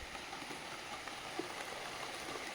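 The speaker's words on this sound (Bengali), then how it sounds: "কলা গাছের পাতায় বৃষ্টি পড়ে সেই বৃষ্টি ছিটকে ঘরের মধ্যে চলে আসছে" Rain falls steadily on banana tree leaves beside a house, a soft, continuous faint patter with no distinct individual drops standing out.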